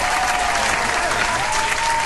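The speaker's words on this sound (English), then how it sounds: "Give me a round of applause." A dense round of applause from many hands, steady and loud throughout, a continuous wash of clapping with no pauses and no talk over it.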